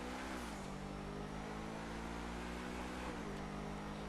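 A Truffade Thrax supercar in GTA 5 drones steadily at high revs with a throaty exhaust note, its pitch dipping briefly at about half a second and again past three seconds as it shifts, constant and close.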